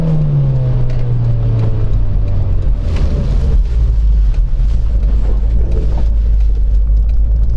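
A rear-wheel-drive 2008 Mazda MX-5 GT NC drives through a winter snowstorm, its engine a loud, steady drone whose tone slides lower early on before settling into a constant low hum with road noise.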